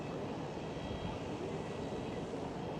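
A Boeing 737 airliner lands on runway 24 at Schiphol, a steady distant roar of jet engines with a broad hiss, unchanging over a few seconds, no voices.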